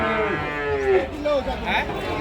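Cattle being sold as young stock for Qurban sacrifice at a cattle market moo loudly and close, a long drawn-out low call followed by shorter ones, over a busy market background.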